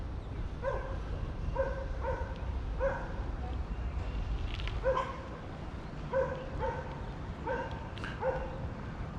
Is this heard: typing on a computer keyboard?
no